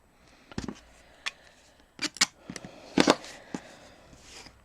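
Scissors snip through quilting fabric while cutting pieces for a January quilt block, giving several short, close crisp cuts spread irregularly with quiet pauses between them and no talking.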